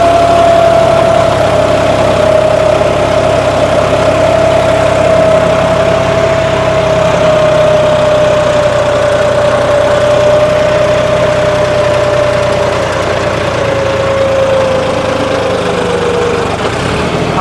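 John Deere 5210 tractor engine running steadily while ploughing in four-wheel drive, a loud continuous diesel drone with a slowly falling whine throughout, no voices.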